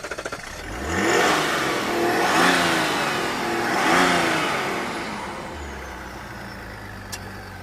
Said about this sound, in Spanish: Los motores diésel tienen un sonido especial.